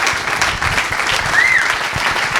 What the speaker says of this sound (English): Give another round of applause to the next President of the United States, Andrew Yang.